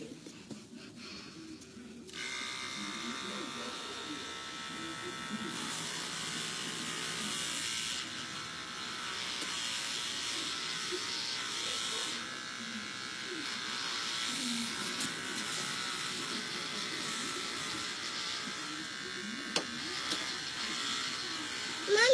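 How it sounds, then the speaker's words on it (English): Electric hair clippers shave a woman's head, giving a steady buzzing drone close to the mic for most of the stretch, with faint movement and occasional quiet voices beneath. "Today's the day. I'm braving the shave."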